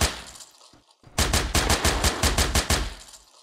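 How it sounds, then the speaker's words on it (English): Rapid burst of minigun fire in the video game CS:GO, a dense run of evenly spaced loud shots lasting a couple of seconds after a brief quieter lead-in. "But there's actually a minigun, a secret minigun you can find."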